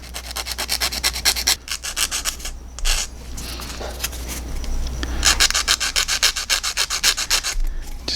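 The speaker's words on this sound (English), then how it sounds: "I'm just going to take a sanding stick and start working it." A sanding stick scrubs over the nose of a plastic model car of an 80s NASCAR Monte Carlo, giving quick back-and-forth rasping strokes that come close and loud in steady bursts, with a couple of short pauses and no talking.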